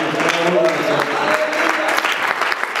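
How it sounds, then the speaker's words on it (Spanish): A church congregation claps in praise to God and a brother, dense sustained applause filling the room, with voices faintly mixed in. "Denle un aplauso a nuestro Dios y a nuestro hermano."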